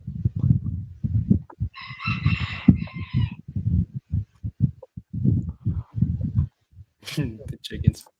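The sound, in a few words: chickens clucking and crowing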